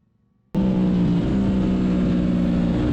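A car on track-day out lap at Harris Hill kicks in abruptly after a brief quiet start, its engine droning loud and steady with a strong tonal hum, close to the cockpit and free of talk.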